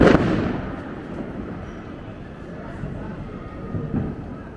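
A sky shot firework bursts loudly at a Diwali celebration, one sharp close bang followed by a long fading crackle and rumble, with people talking in the background.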